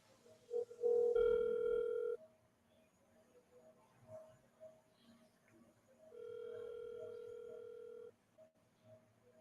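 A telephone line rings on a call, two long steady electronic tones separated by a pause, faint and thin, with faint background noise in between.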